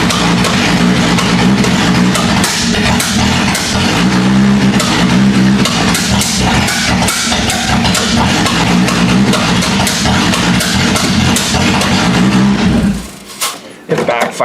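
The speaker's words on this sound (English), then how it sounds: "It backfires like crazy." An old Oldsmobile engine revs hard and backfires, loud and close, with a continuous roar broken by sharp popping bursts; voices are heard amid the noise before the engine drops away near the end.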